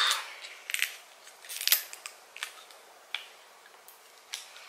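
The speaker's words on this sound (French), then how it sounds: "Ah, attendez, il y a un plastique. Je vais enlever le plastique" Plastic wrapping being peeled off a Christmas gift, heard as a close series of sharp crinkles and snappy crackles, busiest at the start and thinning into sparse clicks, with no talking.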